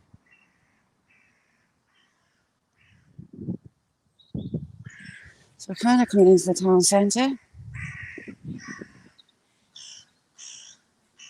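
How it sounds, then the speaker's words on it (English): Carrion crows cawing in a town centre, a run of loud, harsh repeated caws in the middle, with someone talking before and between the calls. "Carrion crows on the hunt."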